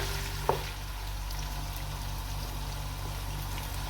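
Dried meat frying in olive oil in a cooking pot, made for Djerban couscous: a steady, even sizzle throughout, with a single sharp click near the start and no voices.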